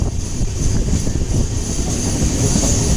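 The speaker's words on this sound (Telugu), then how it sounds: "పిఠాపురం దగ్గర అయితే ట్రైన్ అయితే వచ్చింది" A train rolls into Pithapuram, a loud, steady low rumble with a constant rattle, heard from on board with no voices over it.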